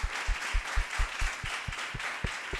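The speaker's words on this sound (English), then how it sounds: "They're clapping now" Lecture audience applauding at the end of a macroecology talk, steady close clapping from a crowd filling the whole stretch without speech over it.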